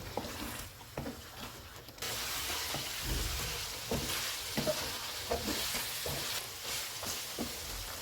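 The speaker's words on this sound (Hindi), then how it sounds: "इनको 5 से 6 मिनट तक भूनेंगे।" Salt, crushed coriander, crushed cumin, crushed red chili and green chilies fry in a karahi for chicken makhni karahi, giving a steady close sizzle with scattered soft stirring knocks and scrapes, and no talking.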